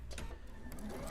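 A sewing machine stitches a quilt seam, giving a brief close mechanical whir with quick repeated needle ticks, no voice over it.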